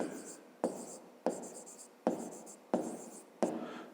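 Pen or chalk writing down an answer, a series of about six brisk scratchy strokes each starting with a sharp tap and trailing off, close and fairly quiet.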